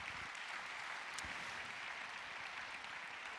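A conference audience gives a steady round of applause, with dense, even clapping sustained throughout at moderate loudness and no talk over it.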